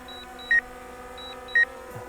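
Two short electronic beeps from a DJI Mavic Air 2S drone's obstacle warning sound about a second apart, crisp and steady, over a faint mechanical hum.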